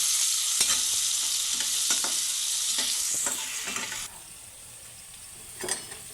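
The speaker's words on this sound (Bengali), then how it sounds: "পেঁয়াজটা ভাজা হয়ে গেছে।" Chopped onion and slit green chillies fry in a pan with a steady, close sizzle, punctuated by repeated scraping stirs; the sizzle quiets noticeably partway through.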